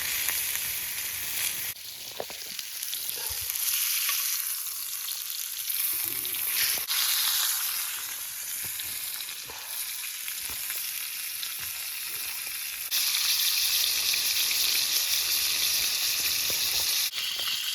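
Food sizzles in butter in a pan on a Montana winter overnight camp. The frying hiss is steady and fairly close, swelling louder and brighter at moments, with faint scraping and stirring.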